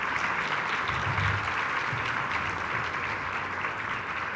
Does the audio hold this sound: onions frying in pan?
no